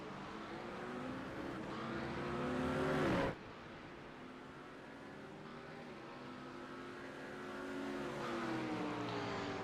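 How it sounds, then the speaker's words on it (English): Race cars, a McLaren and a Mustang among them, roar around Monza in a racing video game endurance event. A loud engine climbs in pitch and then cuts off abruptly, and a steady engine drone continues after. "Matt Benson gets that little McLaren in the back behind the big fat Mustang."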